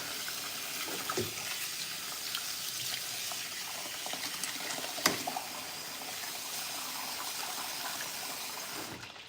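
Rice being rinsed in a sink under running tap water to wash off starch, a steady broadband wash of flowing water with small splashes and clinks, fairly close, no talking.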